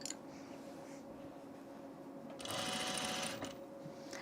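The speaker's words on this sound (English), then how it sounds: "I'm stitching this from the right side because I really want to see how it looks while I do it" A sewing machine stitches a dress from the right side, a soft low motor hum that swells into a louder, faster whirring run of stitches near the end.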